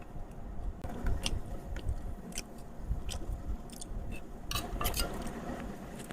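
Chewing and biting on a final mouthful of dal makhani with butter naan, close and crisp, with uneven wet crunches and soft squishy chews spread across several seconds, no talking.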